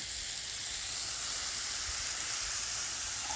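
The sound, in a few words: thin-cut beef sizzling on a griddle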